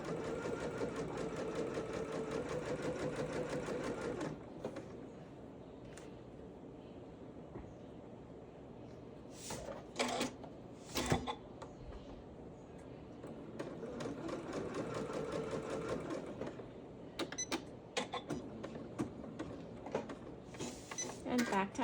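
A domestic sewing machine stitches a seam on a fully lined, reversible top, running in steady rapid bursts that stop and restart, with a clear voice talking over parts of the machine noise.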